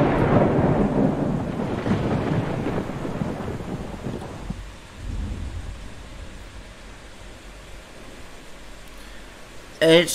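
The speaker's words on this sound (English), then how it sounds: "Oh, it's stormy now, bruh." A thunderstorm in the video game Endless Days opens with a loud, rolling thunder rumble that fades after a few seconds into steady rain hiss and wind, and a voice talks over it.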